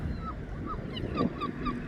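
Seagulls call in short, repeated cries at moderate distance over steady outdoor background noise on a grey coastal day.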